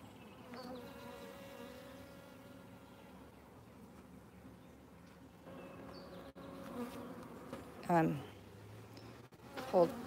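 Honey bees buzz around an open hive frame, a dense close drone of many insects that swells as individual bees pass near, with a few brief louder buzzes and some quiet speech in the background.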